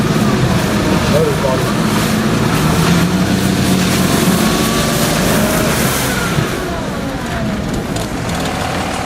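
A car drives through a flooded street in heavy rain, with a steady wash of rain and water noise and a mid-pitched engine passing close by; people talk over it throughout.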